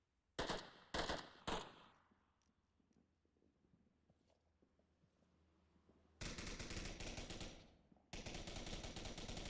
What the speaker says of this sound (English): Shots going off all over the place